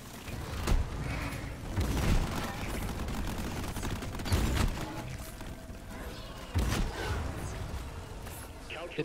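Weapon salvo in Deep Rock Galactic: a series of thumping shots and booms at irregular intervals, each burst punchy against steady game noise, moderately loud with voices talking over it.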